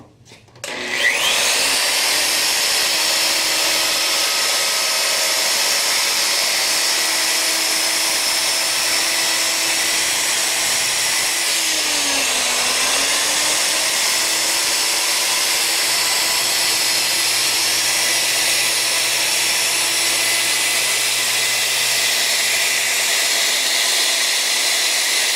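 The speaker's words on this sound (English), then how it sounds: "Using a 1/8 inch round over bit." A handheld router fitted with a 1/8 inch round-over bit edges a red oak table apron, giving a loud, steady whine that spins up quickly and runs unbroken for about 23 seconds, dipping briefly near the middle, with no talking.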